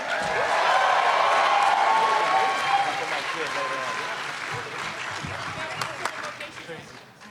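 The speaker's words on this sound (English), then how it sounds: "Keep it going for her. Make some noise for Karen Ashley" Panel-room crowd at a Power Morphicon event keeps up sustained applause for Karen Ashley, loud at first and slowly thinning, with scattered cheers and voices over the clapping.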